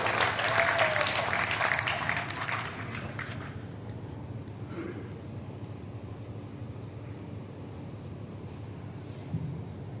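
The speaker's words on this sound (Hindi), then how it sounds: "एक बार जोरदार ताली बजा करके मुझे बताइए।" Loud, dense clapping from the crowd at a Hindi kavi sammelan poetry gathering in Sojat City fills the first few seconds, then thins and fades into a low, murmuring hall ambience.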